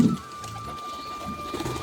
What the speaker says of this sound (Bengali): দেখেন কবুতরগুলি আমার।